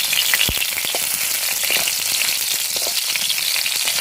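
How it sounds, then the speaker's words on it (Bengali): Hilsa fish fries in hot oil in a pan with a continuous loud, crackling sizzle and scattered sharper pops, heard close and steady throughout. "ইলিশ মাছ এমনি হালকা করে ভাজলেই হয়"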